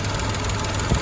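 A 2018 Tata Nexon with 87,000 km on it idles smoothly, close by, giving a steady, even hum with no surges.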